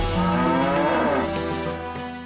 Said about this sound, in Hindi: देखो कान्हा, गाय भी रंभा रही है।